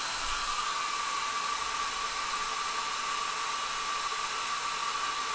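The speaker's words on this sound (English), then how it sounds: "I'm just using a cheapo little hair dryer." A small hair dryer blows steadily, a constant rushing hiss with a thin motor whine, unbroken and close by.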